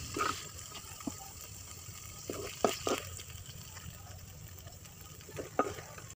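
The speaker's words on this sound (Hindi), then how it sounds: "आप देख सकते हैं कि भिंडी के रेशे ख़त्म हो चुके हैं और ये अच्छे से फ्राई हो चुकी हैं" Sliced okra and onion fry in oil in a pan, a quiet steady sizzle broken by several sharp scraping stirs of a spatula, with no one talking.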